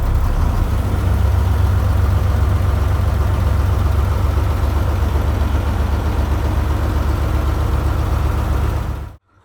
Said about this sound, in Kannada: ಸ್ವಲ್ಪ ಎಕ್ಸ್ಲೇಟರ್ ಕೊಡಿ ಸರ್.